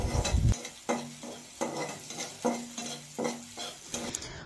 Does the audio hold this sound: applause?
no